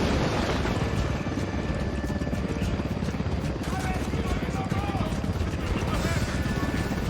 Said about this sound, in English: We got the fucking helo.